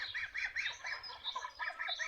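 A flock of geese honking continuously, overlapping calls close by and fairly faint, with a low rumble underneath.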